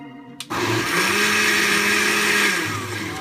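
A blender whirs loudly on its chop setting, cutting parsley and tomatoes; the motor kicks in abruptly after a short pause and holds a steady, high-pitched whine for about two seconds before winding down.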